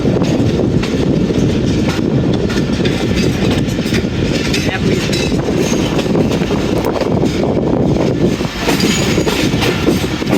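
The 40 Down Jaffar Express passenger train rolls slowly through Golra Sharif Junction on a dual line, a loud continuous rumble of wagons and wheels on track with steady clatter and no break in the noise.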